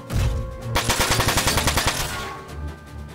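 Rapid bursts of double-shot gunfire from a mech battle in Front Mission 4, a loud rhythmic string of close, evenly spaced reports lasting about a second and a half, then tailing off into game ambience.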